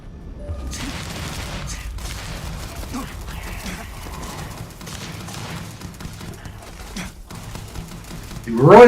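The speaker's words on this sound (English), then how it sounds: "The recoil from my gun is sending me backwards." Gunfire from a gun in the space game Starfield, a long stretch of rapid, crackling shots and mechanical clatter at moderate level, with a louder burst near the end and a voice talking underneath.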